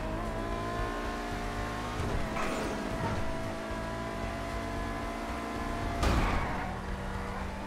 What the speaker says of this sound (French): J'ai une voiture en train de glisser, elle est venue, elle est partie